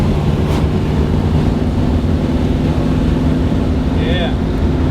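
A car engine fitted with a Street Demon carburetor and a Muncie 4-speed idles smoothly, giving a loud, even, low rumble that holds steady from start to finish.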